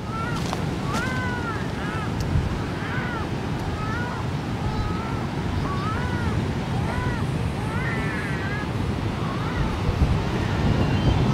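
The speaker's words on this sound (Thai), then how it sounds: "วันนี้ลมแรงนะครับ" Strong wind blowing at a beach, a continuous loud roar buffeting the microphone over rolling surf, with someone talking intermittently under the gusts.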